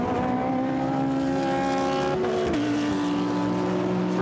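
A GT race car of the Blancpain GT Sports Club accelerates hard at Paul Ricard circuit, its engine note climbing loud and near, with a brief dip as it shifts before pulling on.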